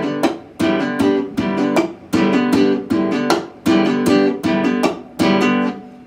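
An acoustic guitar plays a fast repeating pattern of strums, fretting-hand hammer-ons and percussive strikes on the neck, each beat a sharp attack with ringing strings, loud and close with no talking.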